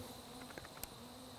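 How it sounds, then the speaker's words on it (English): Honey bees emerge from an opened bee box outdoors, a faint steady buzzing hum with a few brief closer passes of individual insects. "Bees are coming out."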